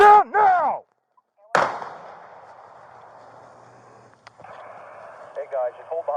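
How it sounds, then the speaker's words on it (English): Gunfire during a Florida police shootout involving an AK-47: a sharp blast rings out with a long echoing decay, followed a few seconds later by a second, fainter report. Voices are heard at the start and end. "they're shooting at me"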